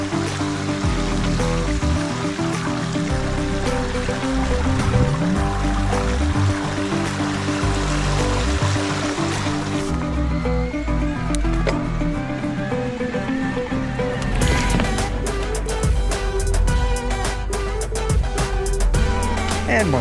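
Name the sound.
mountain bike riding through flooded trail water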